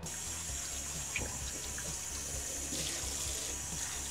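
Coffee grounds and liquid poured down a kitchen sink, heard as a continuous close splash of running water with gurgling, steady throughout.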